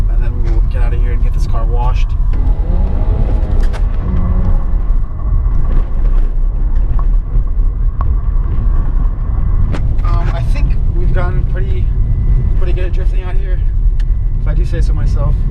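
A Jaguar XE drifting across a Las Vegas desert, its engine revving and rising and falling in steady bursts close by, with people talking over it throughout.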